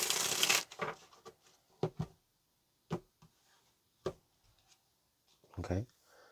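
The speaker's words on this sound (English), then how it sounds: "let's go ahead and get this last shuffle and we'll pull some more energy" Tarot cards being shuffled in a few soft, separate riffles and taps, close and fairly quiet, with a brief burst of talk at the start and again near the end.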